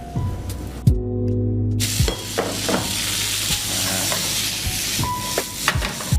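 Pasta tossed into a hot frying pan with garlic and onions, sizzling loudly, with steady stirring and scraping over a continuous frying hiss and a few sharp clinks of a utensil against the pan.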